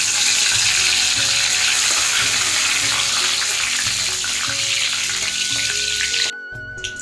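Two or three bay leaves sizzling in hot refined oil in a wok, a loud, dense and continuous frying hiss close up, cutting off abruptly near the end.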